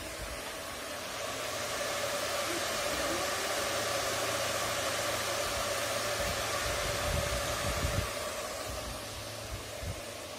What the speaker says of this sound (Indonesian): dan kipasnya pasti nyala.